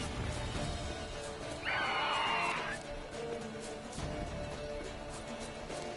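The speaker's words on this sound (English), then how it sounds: "Wild horses." A wild horse whinnies in The Witcher 3 on PS4, a brief, moderately loud neigh over game ambience with a speaking voice nearby.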